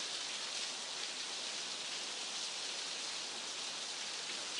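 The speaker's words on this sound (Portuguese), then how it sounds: "Olhem para a chuva." Steady rain falls in an even, soft hiss that holds constant throughout, with no voices over it.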